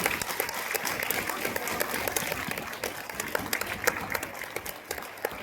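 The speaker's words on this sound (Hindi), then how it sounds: "तो एक बार फिर से जोरदार तालियों से यह हॉल गूंजना चाहिए उनके सम्मान में।" Steady audience applause filling a hall at a summit event honouring women achievers, dense continuous clapping from many people at moderate distance, with no talk over it.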